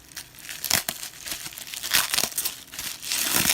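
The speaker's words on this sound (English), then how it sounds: "Trying just to cut tape." Blade cutting packing tape on a cardboard box, a series of close crinkling and tearing rasps in uneven bursts, with no talk.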